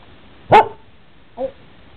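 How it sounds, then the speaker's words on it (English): Border Collie barking, one loud sharp bark followed by a shorter, softer second bark, close by in a quiet room. "Do you quiet bark? That's loud."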